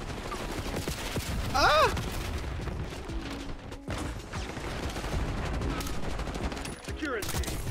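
Sniper rifle fire in the shooter game Black Ops 6, sharp gunshot bursts amid busy battle noise, with a voice exclaiming over the action.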